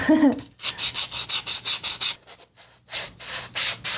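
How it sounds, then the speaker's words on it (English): Sanding a wooden piece by hand, with steady rhythmic back-and-forth rasping strokes, about a dozen close, even passes, after a brief bit of voice at the start. "Definitely need to sand this though"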